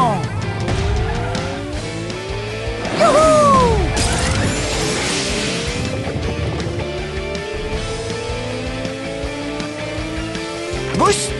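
Racing car in a Paw Patrol video game revs with sweeping engine pitches, tire squeals and skids, and a crash-like burst near the middle, all loud and close over game music and voices.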